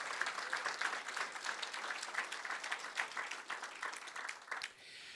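An audience at a university faculty award ceremony gives a round of applause, dense continuous clapping at moderate distance that tapers off sharply near the end.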